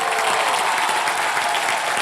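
A television game show studio audience gives the band a thick, steady burst of applause, many hands clapping loudly and continuously with a faint crowd hum underneath.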